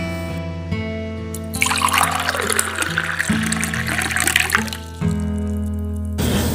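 Water being poured into a glass, a clear trickling fill of about three seconds over a steady background music bed, with no talking.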